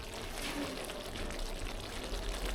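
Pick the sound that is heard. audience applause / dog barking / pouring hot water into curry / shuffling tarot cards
pouring hot water into curry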